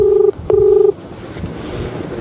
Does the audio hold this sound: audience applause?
no